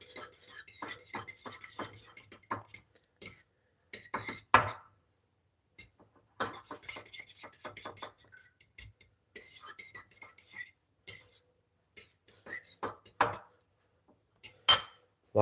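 A fork whisks eggs in a bowl for an omelet, rapid clicking taps against the bowl in quick bursts separated by short pauses, close and fairly soft.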